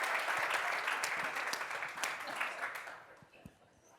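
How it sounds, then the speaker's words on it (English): Audience applause during a sales leadership training session, a dense wash of clapping that holds steady for about three seconds and then tapers away, with some voices mixed in. "give Rob a round of applause"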